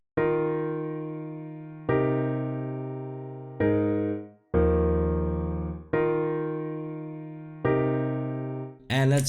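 Native Instruments Grandeur sampled piano plays six sustained chords, struck roughly every two seconds and left to ring and decay, with a brief brighter flourish at the very end.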